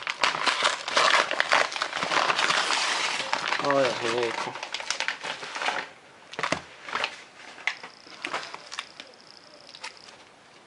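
Toilet-paper wrapping crinkles and rustles loudly as it is pulled off a mailed parcel of trading cards, dense crackling for a few seconds, then sparser handling sounds while a person talks.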